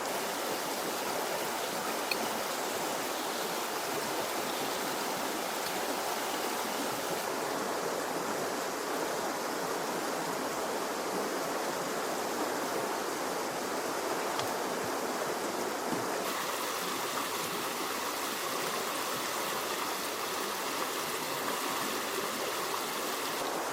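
A river runs beside a campsite in the Citalahab highlands, above 1000 m, with a steady, broad rushing of flowing water that carries on unbroken throughout and has no voices over it.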